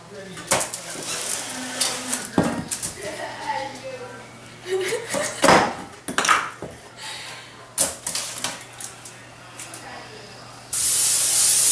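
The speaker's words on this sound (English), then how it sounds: "We probably need to spray that cookie sheet." Cooking spray hisses onto a cookie sheet in one bright burst at the end, following a stretch of talking mixed with clatter and tapping of kitchen items.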